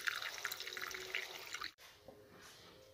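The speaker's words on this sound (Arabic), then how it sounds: "وهنا نصب المي مالتنا الدافي" Warm water pours into a bowl of yeast and sugar being prepared for pizza dough, a soft splashing trickle that runs for under two seconds, stops abruptly, and leaves faint quiet room sound behind.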